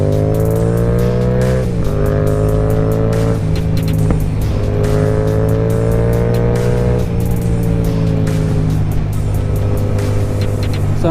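Small Yamaha engine revving hard and loud, close by, its pitch climbing and dropping in repeated waves with brief shifts between pulls, steady and continuous with no talking.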